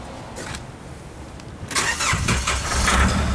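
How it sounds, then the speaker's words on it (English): A diesel vehicle with dual tanks cranks and fires up, a brief starter whir giving way to a louder, rough rumbling idle nearby, with no talking. "I'll start the vehicle up for you, Lloyd, and just have a bit of a listen over"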